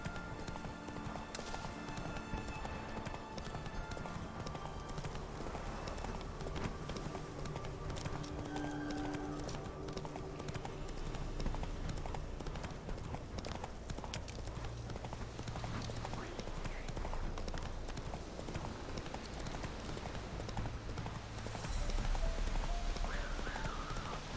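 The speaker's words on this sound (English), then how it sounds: "Bumping into people with Roach doesn't do any damage" Horse hooves clip-clopping from Roach, the horse in The Witcher 3 video game, trotting through a town as a steady, close rhythm under game ambience and music, with a louder burst near the end.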